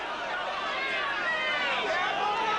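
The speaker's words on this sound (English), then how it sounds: "You can hear the crowd getting behind almost a local boy" Boxing arena crowd cheering for New Jersey fighter Bobby Czyz during his bout with Horacio Rene Brandan, a steady close wall of shouting and cheering with no break.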